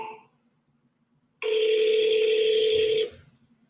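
An outgoing phone call with a steady ringback tone lasting about a second and a half, loud and close, following a brief earlier tone, with no talking.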